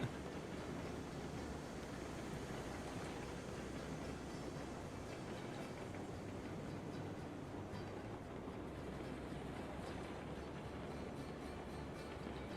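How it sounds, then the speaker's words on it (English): Steady rumble of a train running in the railway game Railroads Online, a continuous low rolling drone with faint clatter, unchanging for about thirteen seconds and fairly quiet. "I'm trying to race a train."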